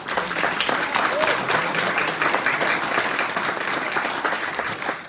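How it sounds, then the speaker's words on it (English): Dense applause at a campaign event, an even, sustained round of clapping from a crowd with scattered voices underneath. "And they deserve a round of applause for that."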